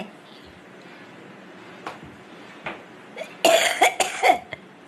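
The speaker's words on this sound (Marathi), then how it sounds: "खोकला झाला" Several short, close coughs come in a quick cluster near the end, after quieter room sound and a couple of faint earlier coughs.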